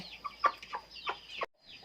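Hen on a Thai egg-hatching farm clucking softly, a string of short, close calls in an uneven rhythm with a brief pause, quiet and alone.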